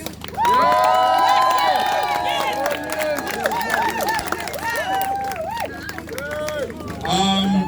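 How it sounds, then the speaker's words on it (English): A crowd at an outdoor protest encampment in Leicester cheers and shouts loudly and continuously, voices rising and falling in a dense mass with some clapping mixed in. "Give a big round of applause"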